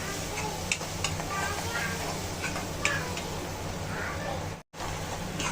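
Red chili powder and turmeric frying in a pan for a soybean dish, a steady low sizzle with scattered stirring scrapes and a brief cut near the end, no talk over it.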